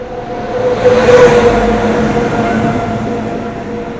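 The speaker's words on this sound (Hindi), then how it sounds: "सयाजी नगरी एक्सप्रेस" Indian Railways Sayaji Nagari Express (Bhuj–Dadar) passing close by, a loud steady rumble of rolling coaches with a faint horn-like tone, swelling then holding level throughout, no talk.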